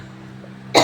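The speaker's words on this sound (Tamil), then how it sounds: "அவ்வளோ இருமல் வந்துக்கிட்டே இருக்கு" A single sharp cough bursts out near the end, caused by smoke from fish frying indoors, after a quiet stretch filled only with low room hum.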